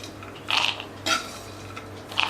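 Roasted cashews, almonds and walnuts tipped from a kadhai into a bowl, heard as three separate bright clattering pours of nuts against metal, each brief and close, over a low steady hum.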